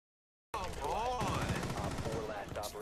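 Rapid automatic gunfire from a Rainbow Six Siege match, dense bursts of shots loud and close, with a voice faintly mixed in under the firing.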